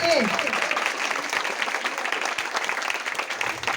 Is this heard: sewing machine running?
no